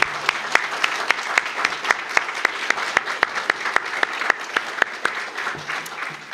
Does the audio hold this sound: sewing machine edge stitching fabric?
no